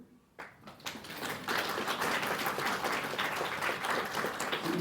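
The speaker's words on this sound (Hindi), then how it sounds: "ताली तो बजाओ।" Audience at a Brahma Kumaris spiritual talk in Delhi breaking into applause after a brief quiet start, the clapping swelling within a second into a steady, moderately loud round that continues to the end.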